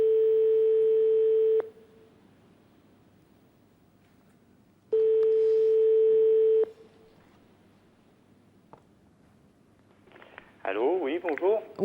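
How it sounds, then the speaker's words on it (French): A telephone line tone sounds in two long steady bursts separated by a quiet gap, then a short burst of busier electronic warbling near the end, with no speech over it. "On compose le numéro"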